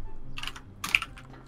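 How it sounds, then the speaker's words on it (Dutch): Quick bursts of typing on a computer keyboard, a few close clusters of light key clicks with short gaps, over a low background hum. "ik was even gaan typen"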